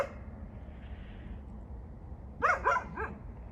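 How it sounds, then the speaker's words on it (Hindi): A few sharp dog barks in quick succession come near the end, loud against a low steady background rumble, heard in a dense forest setting with no talk. "कुत्ते के भौंकने की भी पता इतनी तेज आवाज आ रही है"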